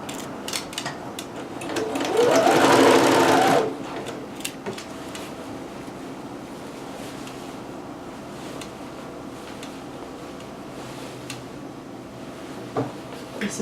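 A sewing machine stitches a large piece of dress fabric in one brief loud burst of rapid motor whirring lasting under two seconds, followed by soft handling rustles and quiet clicks.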